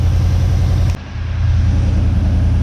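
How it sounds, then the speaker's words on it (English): A 1979 Chevy C10 squarebody truck, left sitting for over ten years, idles with a steady low rumble, close and continuous, with a brief dip in level partway through. "you can probably hear the truck running in the background"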